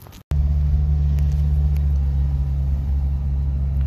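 Subaru Sambar mini truck engine catching after a brief starter burst, then settling into a loud, steady low idle rumble close by, with no voices.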